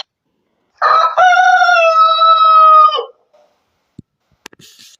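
Rooster crow played back by Google Assistant, a single loud, clear cock-a-doodle-doo lasting about two seconds, followed by a few faint clicks and a brief soft noise.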